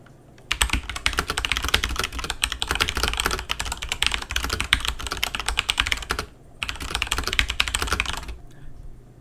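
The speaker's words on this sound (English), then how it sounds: "we can even do a little bit of typing on the mechanical keyboard" Rapid, close clacking of keys on a mechanical keyboard, two dense bursts of typing separated by a brief pause, loud and alone with no talking.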